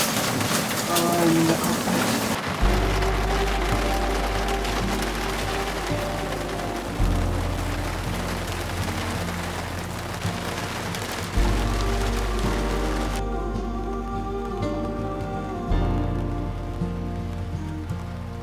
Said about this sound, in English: Oh my God, that's loud rain, is that hail?